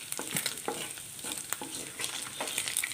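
Anchovies fry in hot oil for a fish pickle, a busy crackling sizzle with frequent spoon scrapes and stirring clicks, close and fairly quiet, with no voices.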